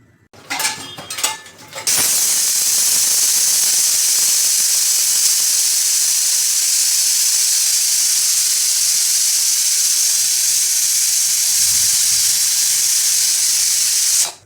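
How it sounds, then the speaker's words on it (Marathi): Pressure cooker on a gas stove at medium flame, cooking dal: a few clinks of the pot, then a loud steady hiss of escaping steam that runs unbroken for about twelve seconds, close and alone. "तर आता गॅसवर कुकर चढवलेला आहे. आपल्याला मीडियम फ्लेमवरती 5 शिट्ट्या करून घ्यायच्यात."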